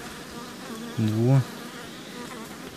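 A close, steady buzzing of bees, swelling briefly loud for a moment against a softer background hum, with a short spoken word.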